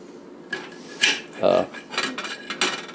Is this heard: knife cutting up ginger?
yes